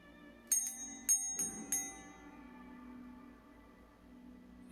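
A bell rings in four sharp bright strikes close together early on, each ringing out and decaying into a quiet room, in a haunted-house ghost-communication demonstration.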